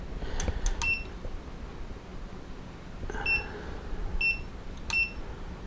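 Multimeter on a workbench beeping during parts testing, a few short clear electronic tones, some doubled, scattered over quiet room noise.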